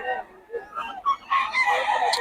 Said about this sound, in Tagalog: Manok ni Jun.